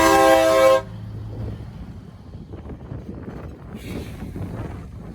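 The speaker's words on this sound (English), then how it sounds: "it was very surprising to hear a train horn equipped on a semi-truck" A train horn fitted on a semi-truck blasts one loud, close chord that cuts off sharply, leaving truck engine rumble and passing road noise before a faint hiss returns.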